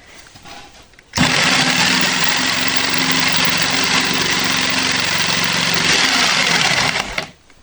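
A secondhand electric jigsaw runs steadily through a cut for about six seconds, a loud, dense buzzing whine that starts abruptly and stops abruptly, with no talking.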